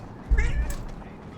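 A pet cat named Basil gives a short meow close by, brief and clear over a faint background hum.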